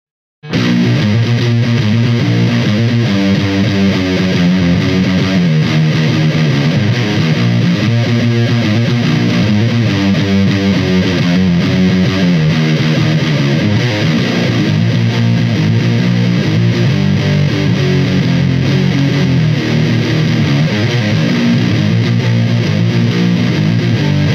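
Continuous lightly distorted electric guitar through a TC Electronic Röttweiler distortion pedal set to low gain and low treble, with a dark, muffled tone, playing a steady riff throughout with no pauses.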